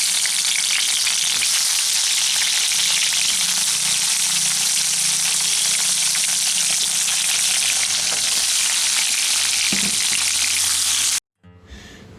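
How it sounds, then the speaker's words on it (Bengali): Eggplant slices fry in hot mustard oil with a loud, steady, hissing sizzle that runs unbroken before cutting off abruptly near the end. "এখন আমি বেগুনগুলোকে ভাজার জন্য দিয়ে দিচ্ছি।"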